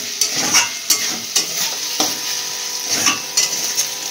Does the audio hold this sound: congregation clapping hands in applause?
no